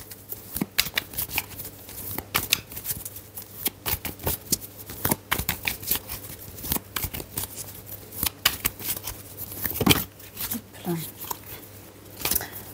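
Tarot cards shuffled and drawn at close range, a steady run of soft riffling snaps and slides with a few sharper flips, recorded alone in a quiet room.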